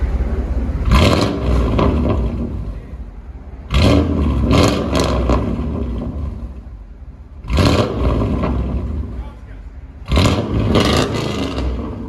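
A 1996 Chevy Silverado 1500 5.7L V8 with straight-pipe exhaust revs hard in four loud bursts, each deep roar swelling and dropping back to a rumbling idle between them.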